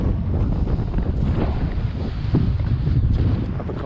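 Strong wind roars continuously across the 943 m summit of Ben Vorlich, a Scottish Munro, in November, buffeting the microphone in a loud, unbroken rumble.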